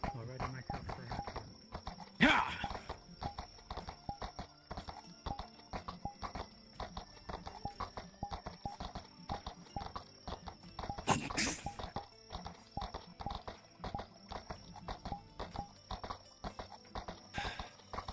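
Horse hooves clip-clop in a steady walking rhythm, close and clear, with a couple of louder bumps and scrapes along the way.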